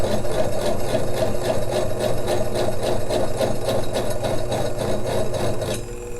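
A faceting machine polishes a facet on a large tanzanite crystal, producing a loud steady motor hum with a rapid, even ticking pulse that runs throughout and fades slightly near the end.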